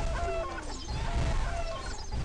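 Chickens cluck in the video game What The Hen!, a busy flurry of overlapping clucks and short squawks at close range over a low rumbling game background.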